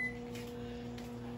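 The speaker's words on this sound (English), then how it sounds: "I can put it in the microwave for 30 seconds" Microwave oven running while heating chocolate for Christmas treats: a steady low hum with a faint electrical whine, continuous and close, after a brief high beep at the start.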